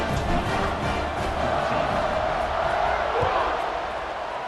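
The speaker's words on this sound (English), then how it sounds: "this crowd is buzzing after that last score" A College Football 26 video game stadium crowd gives off a steady, dense roar of noise that holds evenly throughout at moderate loudness, without sharp bursts of cheering.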